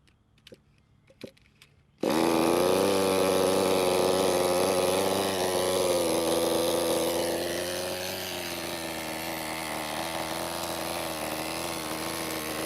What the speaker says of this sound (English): it has fired up pretty much first time and sounds excellent